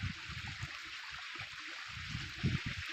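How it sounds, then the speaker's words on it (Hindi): Irrigation water flows across farm fields in a soft, steady trickle, faint and continuous, with low gurgling bumps beneath and no voices. "आज फ्री हूँ तो खेतों में पानी दे रहा हूँ दोस्तों।"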